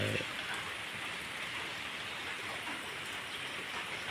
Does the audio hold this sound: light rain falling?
yes